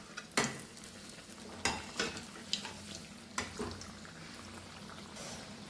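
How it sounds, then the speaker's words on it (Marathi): Bread pakoda fries in oil over a medium gas flame, a faint sizzle punctuated by a few distinct clinks and scrapes of a utensil against the pan. "मीडियम आचेवर आपण हे तळून घेत आहोत"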